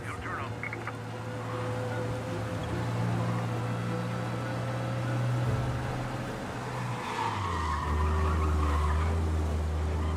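A car in the Mafia Definitive Edition video game races hard and skids, with a steady engine drone, rising revs and tire squeal sliding in toward the end. Game speech runs underneath at times.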